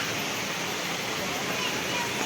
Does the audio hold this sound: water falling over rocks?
yes